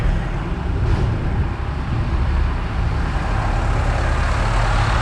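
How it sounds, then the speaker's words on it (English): Traffic on a street in Mexico with a city bus passing close by, a steady loud low engine rumble and road noise holding throughout with no pauses. "Look, this bus right there"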